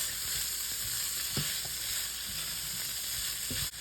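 Garlic fries in a pan for a cabbage dish, giving a constant close sizzle with a few soft stirring knocks.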